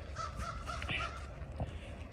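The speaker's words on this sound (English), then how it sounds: "Where do the crows come from?" Crows caw a few times outdoors, harsh calls standing out clearly over steady background noise, with no one talking.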